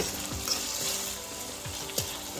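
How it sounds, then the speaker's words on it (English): Saltfish frying in a pot for Jamaican ackee and saltfish, a steady loud sizzle with a few scraping strokes of a stirring spoon, no voices. "I'm going to stir it."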